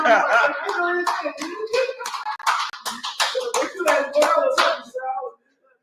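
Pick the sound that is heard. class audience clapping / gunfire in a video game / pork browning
class audience clapping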